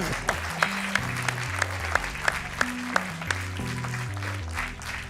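A studio audience on a TV quiz show claps for the contestants, a steady wash of applause over rhythmic music with punchy beats.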